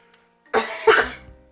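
Two harsh coughs in quick succession, close and loud, with nothing else around them.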